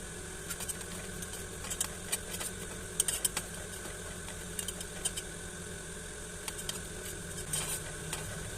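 Cumin seeds dry-roasting in a pan after coriander, with a light steady sizzle and scattered soft clicks and scraping stirs throughout, close and fairly quiet, no talking.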